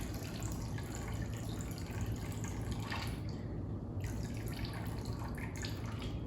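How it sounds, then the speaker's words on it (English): An Aviation cocktail pours into a glass as a steady, close liquid trickle with light splashing, running unbroken for several seconds with no one speaking. "I'm gonna go with this and we're going to pour"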